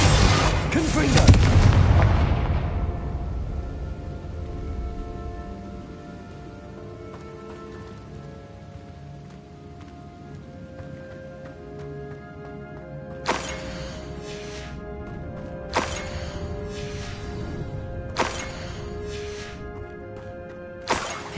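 Casting the Confringo fire spell in the Hogwarts Legacy video game, a loud booming blast that decays over a couple of seconds, followed by quieter ambience and several sharp, bright impacts later on.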